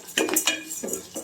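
Moong dal lentils tip into a frying pan of tempering, giving a few quick clinks and light rattling scrapes of metal against the pan, close and soft, with no voices.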